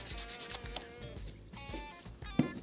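Fine 1200-grit sandpaper rubs over a repaired Gibson Les Paul guitar neck in quick, short, close strokes, a soft rhythmic swishing at a quiet level.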